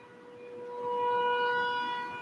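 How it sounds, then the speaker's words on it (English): A tornado siren wails steadily in the distance, its tone swelling slightly louder and then holding. "It's Saturday, and the tornado siren's going off."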